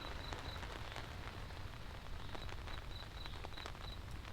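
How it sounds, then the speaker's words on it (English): Rain falls steadily on a surface, a soft, continuous patter with scattered drips, fairly faint and without voices. "Here's the rain again."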